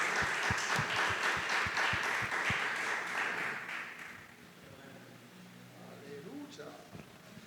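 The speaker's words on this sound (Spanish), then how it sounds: "Dele un aplauso al Señor si usted cree que debe dárselo." A church congregation claps and applauds loudly for several seconds, then the clapping fades out, leaving quieter room sound and a voice.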